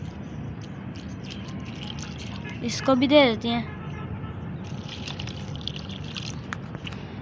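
Water poured from a container onto potted garden plants, including an aloe vera, on a clear sunny day; a steady splashing wash under a man's nearby speech, swelling briefly in the middle.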